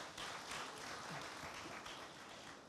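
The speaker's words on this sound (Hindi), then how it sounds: "एक बार जोरदार तालियां हो जाएं।" A studio audience at a televised interview with Nitin Gadkari claps in a continuous, even patter, heard quietly and somewhat distant, with no voices over it.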